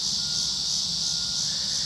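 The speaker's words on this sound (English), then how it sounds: "Can you hear them cicadas?" Cicadas buzz outdoors on a hot day, a steady high-pitched drone that holds unbroken and even throughout, moderately faint and unaccompanied by any voices.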